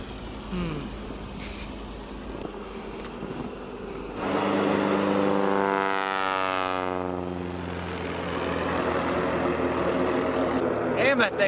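A loud, big-engined small propeller plane roars close by on takeoff in Alaska, then recedes as it climbs away, its droning pitch sliding downward.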